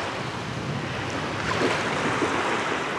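Morning sea waves wash onto a beach near Anapa on a cold, misty day, a steady close roar of surf with wind noise buffeting the microphone.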